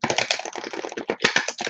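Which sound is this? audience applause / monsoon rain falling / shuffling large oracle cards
shuffling large oracle cards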